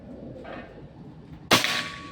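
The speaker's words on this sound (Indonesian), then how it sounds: "Tembakan keempat ini ya." A Pajero Gun Gen 5 PCP air rifle fires one sharp, loud shot outdoors in Tarakan, North Kalimantan, with a short ringing tail over quiet background noise.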